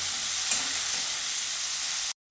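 Green beans fry in hot oil for chicken fried rice, giving a steady, close, unbroken sizzle for about two seconds before it cuts off abruptly.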